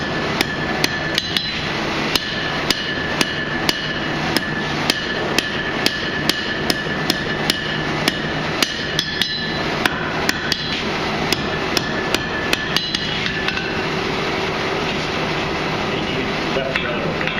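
A hammer strikes hot metal while forging an axe, sharp ringing clangs at an uneven but steady pace, loud and close, continuing for a long stretch.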